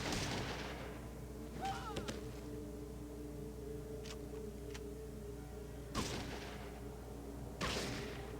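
Several sharp gunshots from a Fallout 2 combat scene, spaced apart over a low steady hum, with a cluster of louder bangs near the end, fairly quiet overall.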